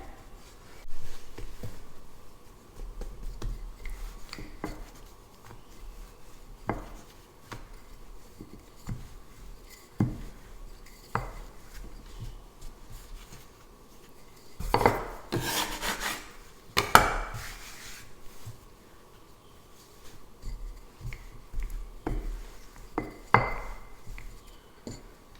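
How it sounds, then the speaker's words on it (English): Flatbread dough being rolled out on a wooden surface, soft intermittent rubbing and rolling strokes with a few louder knocks, close and quiet, no talking. "I'll continue rolling out my flatbreads."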